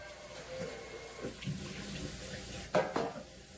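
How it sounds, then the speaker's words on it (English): A kitchen faucet runs with a steady hiss of water while it is being adjusted, with a couple of short clatters near the end and no talk. "turn the water down a bit."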